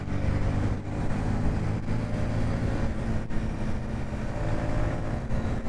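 A Yamaha XSR155 motorcycle rides through Delhi traffic, its engine a steady broadband drone with surrounding traffic noise, loud and continuous with small dips in level and no talk.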